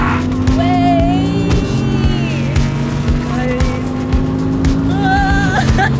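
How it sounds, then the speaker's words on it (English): Field of GT race cars accelerates after the green flag at Hockenheim, engines roaring and shifting through gears together, loud and continuous, with overlapping revving pitches rising and falling as cars pass. "the cars accelerate down towards turn 1"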